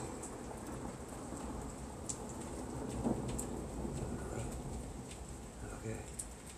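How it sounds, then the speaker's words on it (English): Steady rain in a thunderstorm with a low rumble of thunder, a constant hiss of falling drops under occasional spoken voice, fairly faint overall. "Stop raining."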